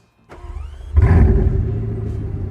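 A Bugatti Chiron Pur Sport engine cranks and fires up with a sudden loud burst, then settles into a deep, rumbling idle.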